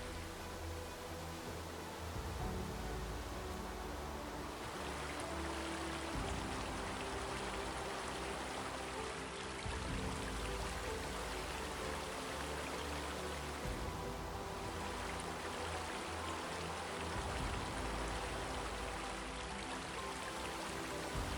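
Broad, steady rush of river water flowing through a valley, a continuous wash of noise that stays even and dense for the whole stretch, with no voices.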